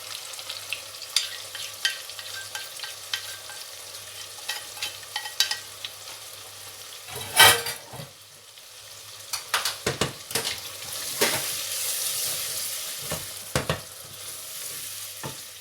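Salt, turmeric and chillies fry in oil for chana dal karela, a steady sizzle broken by repeated spoon scrapes and clatters against the pan as the spices are stirred, close and clear, with no talking.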